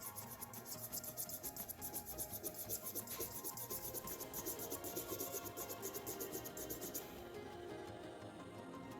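Pencil shading on paper while tonally rendering an antique head sculpture, a continuous fine rhythmic rasping scratch of quick back-and-forth strokes, close and steady, stopping near the end.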